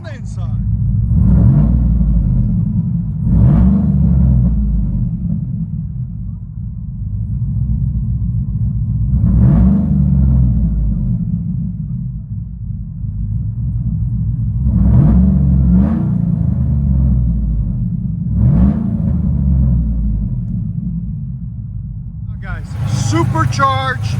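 From inside the cab of a supercharged Chevy Silverado 5.3L with headers and Flowmaster exhaust, a deep engine rumble rises and falls through a series of revs, with some talking alongside.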